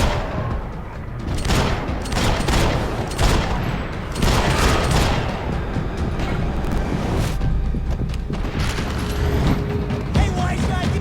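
A loud, chaotic gunfight from Max Payne 3 packs rapid bursts of gunfire and sharp shots with clattering mechanical noise, and voices shout briefly amid the shooting.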